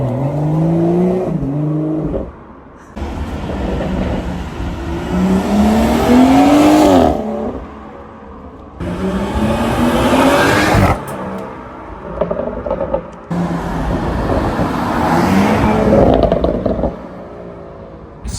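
A BMW M240i with OPF and resonator delete exhaust roars past in a flyby, engine pitch rising hard under acceleration in three loud passes separated by brief lulls.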